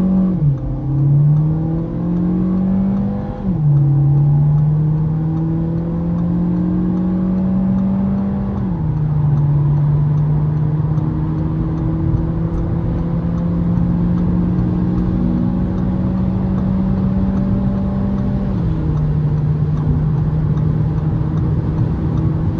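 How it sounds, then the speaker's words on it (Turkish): An Audi A3 Sportback 1.5 eTSI Hybrid accelerating hard from 0 to 100 km/h, heard from inside: a loud, steady engine drone rising in pitch through each gear, then dropping sharply at several upshifts. "Şimdi sizler için bir de 0-100 deneyeceğiz."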